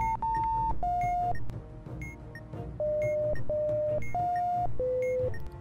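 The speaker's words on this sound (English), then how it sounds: "I couldn't hear you over the beeping" Electronic alarm beeping in the bomb-defusal video game Keep Talking and Nobody Explodes, a loud repeating series of sustained tones stepping between pitches, with short breaks and no voices over it.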